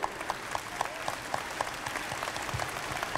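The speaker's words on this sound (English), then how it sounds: "So let's give a huge round of applause for all of our team members for their work." Applause from an audience at an elementary school all-city music festival, thanking the festival team, a steady bed of many clapping hands with a few sharper claps standing out.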